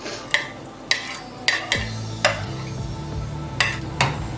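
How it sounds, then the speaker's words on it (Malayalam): Chopped capsicum being added to a pan and stir-fried for restaurant-style Gobi Manchurian, with a spoon clanking against the pan every half second or so over a low, steady sizzle. "ഇനി നമുക്ക് കട്ട് ചെയ്ത് വെച്ചിരിക്കുന്ന ക്യാപ്സിക്കം ചേർക്കുക"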